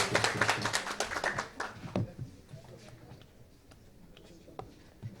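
An audience at a Kashmir seminar claps to welcome a speaker, starting as a burst of many hands and then thinning to scattered faint claps and taps over a quiet room.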